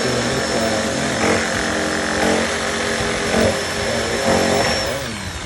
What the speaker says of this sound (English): Got the jigsaw. Works a little bit better.